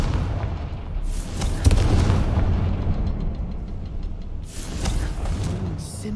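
Confringo fire spells from Hogwarts Legacy burst in heavy, booming blasts with rumbling low-end tails, one stronger hit standing out amid continuous combat noise and bright crackling flares.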